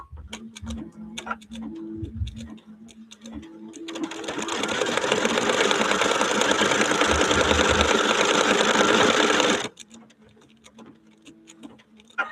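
Embroidery machine stitching a wedding quilt block in blue thread, with a quiet ticking and rhythmic clatter at the start and end and a long louder dense run in the middle, close by.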